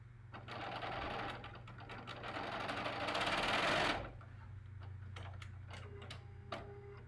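A sewing machine stitching a curved seam in quilt fabric without pins, running fast and close in a steady whir, then slowing into a few separate ticks and clicks.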